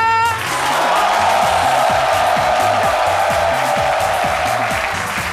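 A television show's studio audience applauds and cheers in a dense, loud, sustained roar that holds for several seconds, with a steady musical pattern running underneath.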